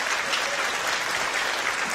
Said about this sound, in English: I'm just going to let you clap for them.